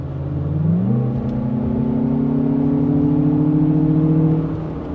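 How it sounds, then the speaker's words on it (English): Artificial engine sound piped into the cabin of a Lexus RX500h F-Sport hybrid: a loud, steady droning hum that climbs in pitch early, then holds a smooth, sustained tone. "You guys can hear that fed-in engine noise"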